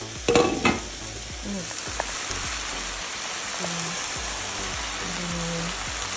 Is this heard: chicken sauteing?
yes